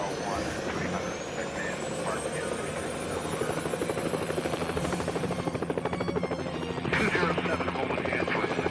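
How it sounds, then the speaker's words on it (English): A large rescue helicopter in the video game Helicopter Simulator 2014: Search And Rescue flies with a loud, continuous rotor chop and turbine whine, a rising tone sweeping upward beneath the steady thumping. "This is a bigger, tougher helicopter, so it should be able to go faster."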